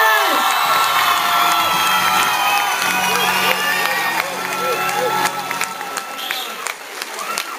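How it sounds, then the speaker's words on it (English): Loud audience applause and cheering with whoops and shouts erupts for Thomas after he sings on stage, a dense crowd roar that gradually thins. "I think we should have one more massive round of applause"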